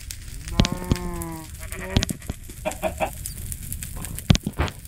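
Repeated clucks and squawks from Minecraft chickens, mixed with bleating animal calls, come in quick irregular bursts over a faint background hum.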